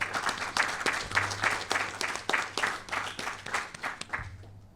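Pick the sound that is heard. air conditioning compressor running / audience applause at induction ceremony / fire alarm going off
audience applause at induction ceremony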